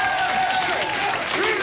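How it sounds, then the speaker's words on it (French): Audience applause for Jean-Pierre Sauser at a live show, a dense steady wash of clapping throughout with some vocal tones and cheering mixed in. "Applaudissements pour Jean-Pierre Sauzet."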